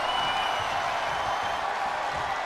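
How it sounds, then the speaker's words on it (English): Steady arena crowd roar and cheering during a WWE 2K22 Extreme Rules match with The Undertaker facing Triple H, a dense continuous wash of noise with no spoken voices. "He's getting a huge boost right now from all those chants and cheers"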